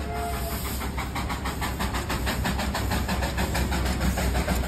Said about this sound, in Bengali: টয় ট্রেনের স্টিম ইঞ্জিন কিন্তু এগুলো।